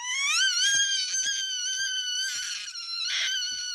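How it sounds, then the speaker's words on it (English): A baby girl lets out a long, shrill, sustained scream that wavers in pitch, loud and close, with brief breaths and small gasps between pushes. "Did you just discover that you can scream?"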